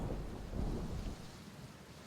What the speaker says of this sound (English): It was a dark and stormy night in Phoenix,